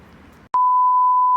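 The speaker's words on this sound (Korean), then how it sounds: "알람이 지금 두번 울린 거 봐서 9시 10분이에요" An electronic alarm gives a short blip and then a steady, loud, pure beep tone, heard close and alone after faint background noise at an outdoor bass fishing spot.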